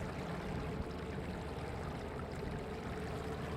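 Cold water bubbles and churns steadily in a cruise ship jacuzzi, a dense, even rush heard up close with no voices.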